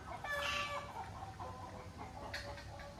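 A hen clucking in an organic vegetable garden with other birds about: a few raised clucks and squawks at middle distance, fairly faint, over outdoor background noise.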